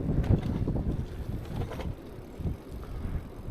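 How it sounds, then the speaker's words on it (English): Gusty wind stirring up ahead of an approaching storm, buffeting and rumbling loudly against the microphone during an outdoor e-bike ride, with uneven surges and no talking. "That's what all this wind and everything stirring up is all about."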